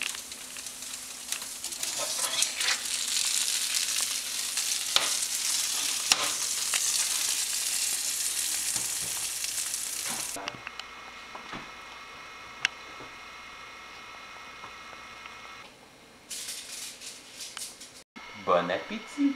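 Bacon roasting in an oven gives a loud, steady crackling sizzle for about ten seconds, then drops to a quieter hiss with a few scattered pops and clicks near the end.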